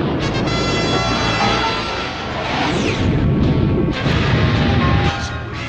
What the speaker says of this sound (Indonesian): Misil meledak di angkasa.